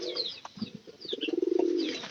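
A pigeon in a coop gives a close, rolling coo, preceded by a few soft low notes, with faint chirps from other birds behind it.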